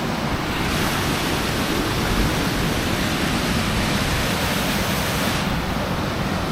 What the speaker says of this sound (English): I'm loving the actual water in front of me, the waterfall coming down between those two